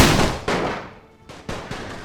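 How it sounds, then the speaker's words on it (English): Infantry in a Great War video game fires a volley at charging lancers, with several sharp reports in quick succession. The shots sound as loud near cracks with short decays, and there is a pause before the last two. "We're gonna be able to fire just in time, it seems."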